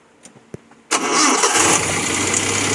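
A few faint clicks come first, then the engine of a Nissan C22 Vanette catches with a sudden burst. It settles into a loud, steady running rumble close by.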